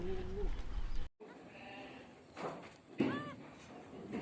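On a goat farm, a Sirohi goat giving birth lets out a few short, strained bleats, loudest near the end, over low rustling and background noise.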